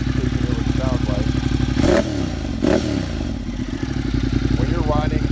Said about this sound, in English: that is exhaust. It's just one exhaust coming out of the rear, and we're gonna crank it